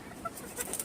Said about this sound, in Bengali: ডিম পারবে, এই জন্য ডাকাডাকি করতেছে।